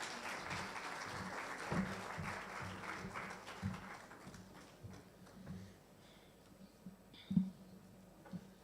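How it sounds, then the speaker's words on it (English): Scattered applause from a conference audience as a Ghanaian information minister is called to the stage, faint and thinning out, with a few louder isolated claps toward the end. "with a round of applause,"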